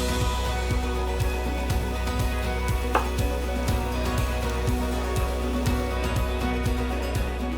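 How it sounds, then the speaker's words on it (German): Knife chopping asparagus into smaller pieces on a board in a home kitchen, a steady run of even, crisp taps at a moderate pace, close and alone. "Also jetzt den Spargel in kleinere Stücke schneiden."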